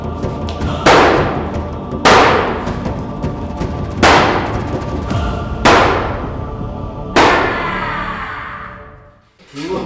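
A medieval warhammer strikes a riot shield five times, first with the hammer side and then the spike side, each blow a loud sharp impact with a ringing decay, spaced roughly every one and a half seconds.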